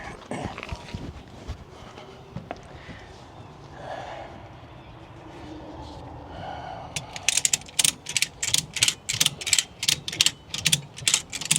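A ratchet strap on a Peterbilt 352 heavy wrecker is cranked in a series of sharp, rhythmic metallic clicks near the end, following quieter mechanical handling.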